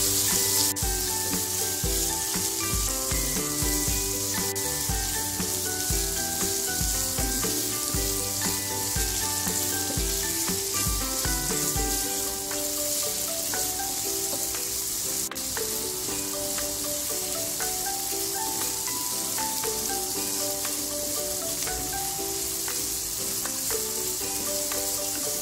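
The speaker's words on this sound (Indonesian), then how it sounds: "kita tumis terus ya sampai ayamnya ini seperti yang tergoreng" Chicken stir-fries in a hot pan, giving a loud, continuous sizzle and crackle that holds steady throughout with no talking.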